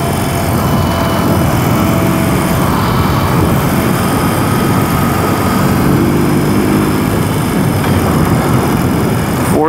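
A BMW R 18 cruiser motorcycle cruising in fourth gear on the highway, a constant loud engine drone buried in heavy wind rush with no breaks.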